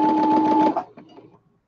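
Domestic sewing machine run at full throttle, a loud, close, high-pitched whirring drone that holds steady for under a second and then cuts off, followed by a few faint clicks and a short spoken aside.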